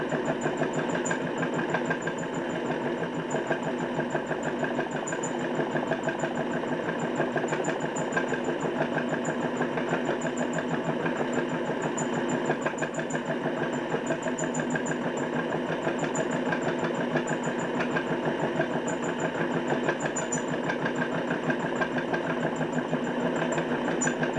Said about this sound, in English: trying to keep the motor speed constant with my finger braking for the NBTV.